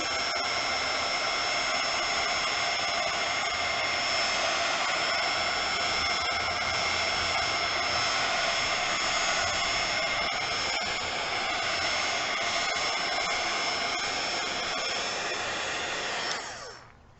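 Heat gun blowing hot air steadily to dry a coat of paint on a cardboard stencil craft, a loud continuous whooshing drone with a fan whine that runs unbroken for about sixteen seconds before cutting off.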